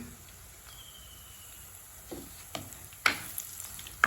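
Onions sautéing golden in a pan with cinnamon for a chicken dish, a steady close sizzle and fry with a few sharp stirring clinks and scrapes toward the end.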